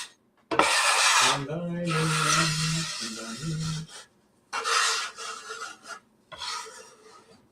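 Cookies being scraped off a baking sheet: several rasping scrapes in close, loud bursts, some with a squeaky tonal edge, separated by short pauses.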